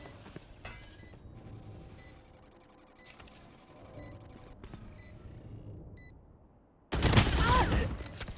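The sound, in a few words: Swarm grenade ability going off in Valorant video game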